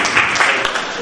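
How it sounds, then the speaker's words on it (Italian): Brief burst of applause for the association president at the Sanremo International Artistic Award ceremony, a dense, steady patter of many hands from a nearby indoor audience. "Merita veramente un grande applauso per tutto quello che fa"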